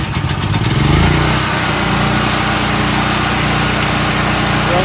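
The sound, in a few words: Predator 7000 8750 generator engine starting and running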